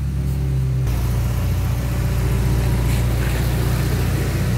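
A Suzuki Swift fitted with an iForce unit revs hard, its engine note stepping up after a short idle and holding a loud, steady mid-pitched roar close by.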